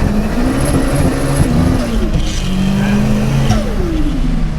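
A 600HP Nissan S15 with a VVL SR22 engine revs hard and close, climbing in pitch to bounce off the rev limiter twice before dropping away, loud and raw.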